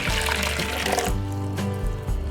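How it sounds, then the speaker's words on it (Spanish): Very hot water poured into a large bowl for making pineapple-flavored gelatin, a steady close splashing stream running continuously throughout, with no talking. "En un tazón grande voy a colocar 2 tazas de agua bien caliente."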